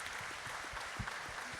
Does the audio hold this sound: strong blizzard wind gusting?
no